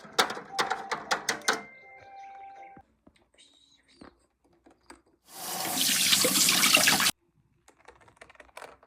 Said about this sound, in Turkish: Gideyim elimi yüzümü yıkayayım.